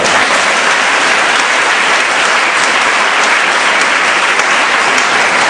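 A church congregation at a Mass applauds loudly and steadily, a dense, unbroken wash of many hands clapping together that stays even from start to end with no voices standing out.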